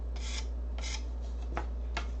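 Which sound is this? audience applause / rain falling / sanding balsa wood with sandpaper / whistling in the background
sanding balsa wood with sandpaper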